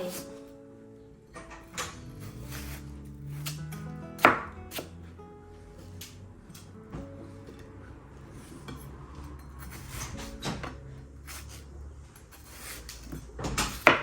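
A knife cuts through an Australian imported watermelon on a cutting board, with repeated crisp thuds and crunches at an irregular pace, close and clear, and occasional louder knocks against the board.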